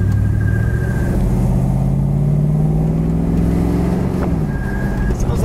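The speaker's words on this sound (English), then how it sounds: "we got just a little bit of a fan belt noise that we got to check on when we get back" A 1965 Chevrolet Chevelle convertible runs with the top down, its engine a loud, steady close rumble with a slowly rising tone, carrying a slight fan belt noise.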